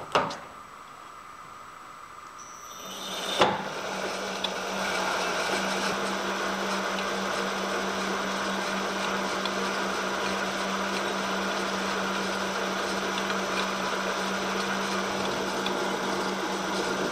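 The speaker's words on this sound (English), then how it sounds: "Let's drill our next hole." A power drill spins up after a sharp knock and runs at a steady whine while boring a hole during a press brake adaptation in a workshop, continuous and close.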